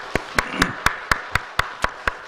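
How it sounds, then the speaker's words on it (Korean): A church congregation claps for the choir, striking sharp, unison claps at a brisk, perfectly even rhythm, about four per second. "격려의 박수로 같이 한번 우리 박수하도록 하시겠습니다"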